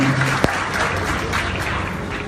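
A crowd applauds steadily, a dense wash of clapping from many hands that continues evenly throughout.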